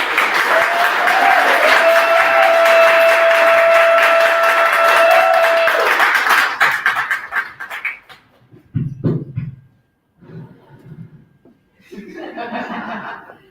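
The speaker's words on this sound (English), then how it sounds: "that clap was whack" Audience applause at a live summit event, a dense, loud wash of clapping that swells for about six seconds, then thins into scattered claps and murmurs before trailing off.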